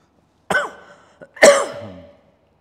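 Two sharp coughs separated by a short pause, the second louder and trailing off with a throaty rasp.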